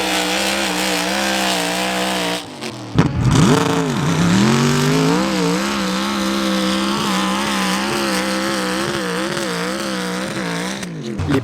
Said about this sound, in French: Des 4x4 survoltés à plus de 1500 chevaux.